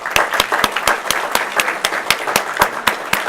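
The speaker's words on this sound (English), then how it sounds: "Let's have a round of applause to celebrate you all." Steady audience applause at a company awards presentation, many hands clapping in a dense, even patter that stays loud throughout.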